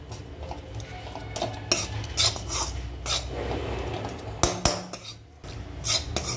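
Gram flour being roasted and stirred in a pan for laddu, with repeated scraping and clinking of a metal spoon against the pan in an irregular rhythm, close and clear, no talk.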